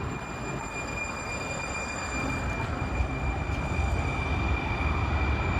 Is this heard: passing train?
yes